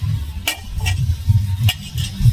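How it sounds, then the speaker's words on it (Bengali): Potatoes frying in a pan for a vegetable curry, a low continuous sizzle broken by a few quick stirring scrapes, close and moderately loud. "তরকারি আলু ভাজছে"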